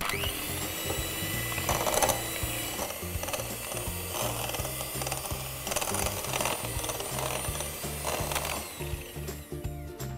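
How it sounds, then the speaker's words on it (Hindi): Electric mixer creaming butter and fine-grain sugar at low speed for a red velvet cake batter, a loud, steady mechanical whir with a rapid rhythmic chatter throughout, close up and with no talk. "इसे अब हम आराम से हल्की स्पीड पर क्रीम करेंगे"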